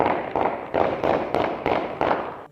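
Children setting off big firecracker bombs outdoors near shops during Eid celebrations: a rapid series of loud, sharp bangs, about six close bursts in quick succession.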